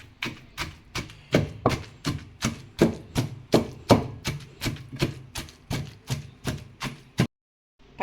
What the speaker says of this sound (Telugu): ముందు పచ్చిమిర్చి వేసేసుకుని నలిపేసుకుంటాం.